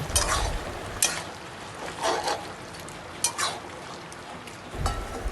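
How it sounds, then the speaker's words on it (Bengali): Hilsa fish heads get stirred into a pan of cooking pui shak greens, with intermittent scraping and clattering of a spatula against the pan over a soft steady sizzle. "এবার আমরা ইলিশ মাছের মাথাগুলো এর মধ্যে দিয়ে দেবো, দিয়ে ভালো করে মিশিয়ে নেব।"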